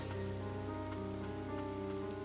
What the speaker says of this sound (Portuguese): A chuva da morte.